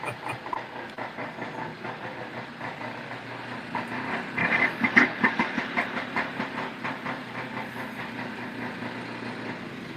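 A vintage snowmobile engine running steadily, a continuous mechanical chugging and hiss with a regular pulsing rhythm, fairly close and moderately loud, with no speech over it.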